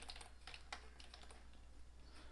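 Rapid, light clicking of a computer keyboard as a website name is typed, a quick irregular run of close keystrokes over a faint room hum.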